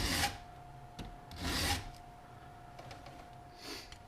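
A Stihl chain sharpening tool files the teeth of a chainsaw clamped in a vise, with several quiet, separate rasping strokes spaced by short pauses.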